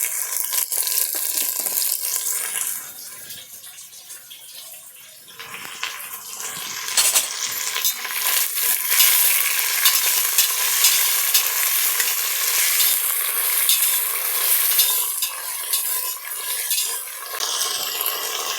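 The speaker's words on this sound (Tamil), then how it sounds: "வெங்காயம் வந்து கோல்டன் ப்ரௌன் ஆகிற வரைக்கும் நல்லா வதக்கணும்" Onions sauté in a hot pan for chicken biryani, frying with a loud, steady sizzle while a spoon stirs and scrapes them over and over, close up with no talking.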